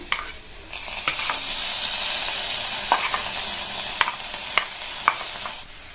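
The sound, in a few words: boiled cabbage being stirred into sautéing onions in a pan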